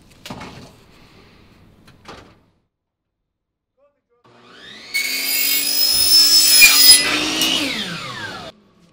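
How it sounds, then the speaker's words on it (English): A saw cuts aluminum stretcher bar stock in a workshop, rising into a loud, harsh metallic whine that lasts several seconds and then cuts off, after a couple of short knocks and a quiet pause. "The first step in making aluminum stretchers is cutting the aluminum to the correct size."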